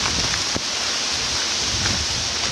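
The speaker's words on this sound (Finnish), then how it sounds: "Vieläkin sataa." Rain falling in a Finnish forest at Sipoonkorpi in August: a dense, steady hiss of rainfall with some wind rush, filling the whole stretch at close range, with no talk.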